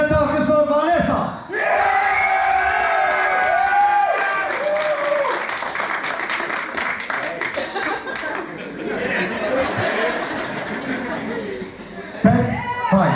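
A hotel crowd in Alanya applauds and cheers a pageant contestant at a beauty contest, with dense clapping, shouts and whoops mixed with chatter and an announcer's voice over a loud, sustained roar.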